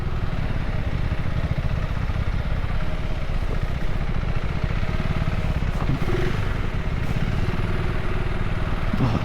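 A motorcycle engine runs steadily while riding slowly through a jammed line of traffic on a road in India, a continuous close, loud mechanical drone with some clatter and no pauses.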